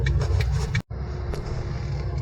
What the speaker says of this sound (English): I'm driving on the first gear